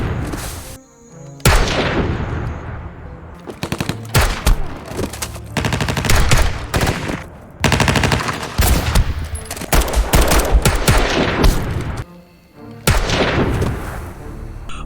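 Heavy bursts of gunfire and booming blasts in a film scene as a truck is shot at, loud and dense with brief gaps between volleys, rapid automatic fire mixed with deep explosive thumps.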